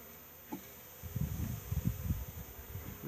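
Bees from a small Flow hive buzz in a low, fluttering drone that swells after a quiet start, close and moderately loud against faint background hiss.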